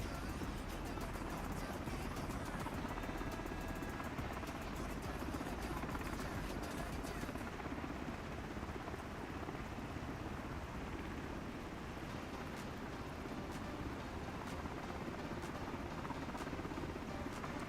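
A Miltech MH60T military helicopter in Microsoft Flight Simulator 2024 flies from Kodiak to Cordova, its steady dense rotor and turbine roar running loud and unbroken throughout.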